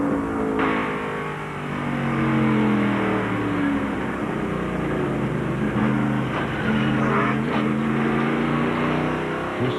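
Onboard a 1998 NASCAR Busch Series race car, the engine revs in rising and falling harmonic sweeps as gears change, loud and close throughout with a harsh roar and occasional rattles, no talk.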